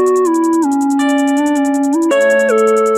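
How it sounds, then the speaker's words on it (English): Rapid, evenly ticking hi-hats drive a PluggnB beat, crisp and bright above a loud, sustained synth melody that steps between notes, with no bass or voices. "everybody knows that a PluggnB song isn't a PluggnB song without the crazy ass hi-hats"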